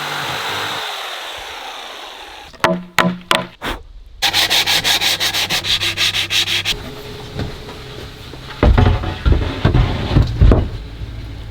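A power sander grinds in bursts, starting and stopping several times, then runs steadily before a rougher, louder stretch of rubbing and scraping, close and loud.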